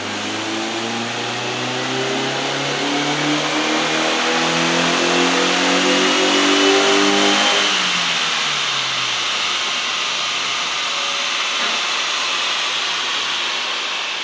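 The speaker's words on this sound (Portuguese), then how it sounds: "Feita a passada no dinamômetro" A car engine on a dynamometer with a FuelTech engine management system revs steadily upward through a long pull, then drops off sharply and winds down over the roller's hum.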